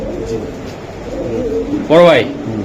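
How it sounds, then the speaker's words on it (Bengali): Racing pigeons coo once in a short, loud, close burst of throaty rising-and-falling notes, set against a steady low background murmur and faint voices. "যে কবুতরগুলো দেখো সব পিওর কবুতর একদম পিওর ভেজাল ছাড়া"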